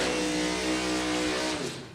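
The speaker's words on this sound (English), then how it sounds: "The Pontiac tracking down the Mustang." A Pontiac and a Mustang drag racing down the strip at a door-car drag event, their engines roaring loud and close in one sustained, harmonic-rich blare that tapers off slightly at the end.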